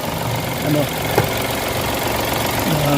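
A Mitsubishi Mirage engine runs at a rough, unstable idle, a low, uneven throb and shake heard close up that continues steadily through the short stretch.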